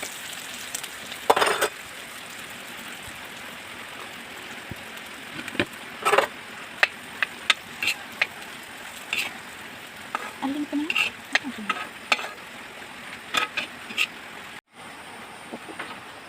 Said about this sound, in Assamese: আলু বইল কৰাটো পিটিকাটো ভাজি ল'ম